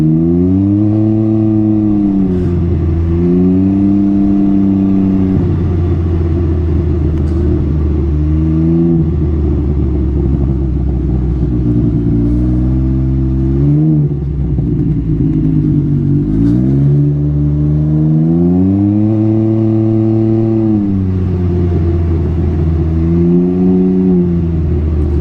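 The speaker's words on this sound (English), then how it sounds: "Now I don't know how much you can pick up the exhaust sound on this mic, but the exhaust is absolutely crazy." A car's exhaust booms loud and close as the engine is revved repeatedly, rising and falling in long sweeps through several surges, with a deep rumbling idle between pulls and no voices.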